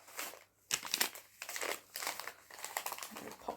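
Packets of dried herbs (bay leaf, hibiscus, lemon balm, orange peel, rosemary) are handled and put back, loud close plastic crinkling in several bursts separated by short pauses.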